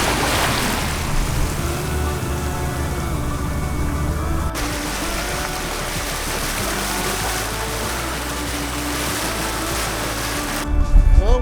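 Wind and surf rush steadily around a sailboat beating upwind, with waves washing against the hull in a broad, continuous roar and a louder gust or splash near the end.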